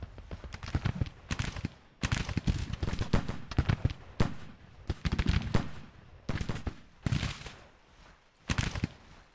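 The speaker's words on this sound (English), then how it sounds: "Who are they shooting at?" Gunfire in a video game battle set in a 1961 Union campaign: bursts of rapid shots in several clusters, loud and close, separated by brief lulls.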